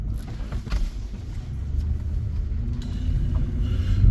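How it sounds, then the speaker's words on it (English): A big truck passes with a deep, loud humming rumble, a steady low drone that swells slightly toward the end, heard outdoors in a wooded area. "I hear this loud roarish hum noise. Sounds like a big truck."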